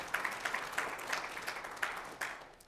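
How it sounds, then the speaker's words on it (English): Faint, distant audience applause for sponsors at a college horticultural sciences department event, a brief patter of many hands clapping that keeps up for a few seconds before thinning out. "Big round of applause for them too."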